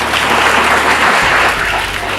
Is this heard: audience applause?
yes